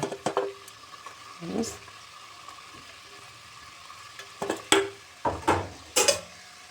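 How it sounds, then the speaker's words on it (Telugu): Jackfruit curry frying in oil in a pan, with a low sizzle under intermittent scraping strokes as it is stirred, the bursts clustering more densely toward the end. "ఆయిల్ అనేది ఫ్రై చేస్తాం మంచిగా మొత్తం మిక్స్ చేసుకోవాలి"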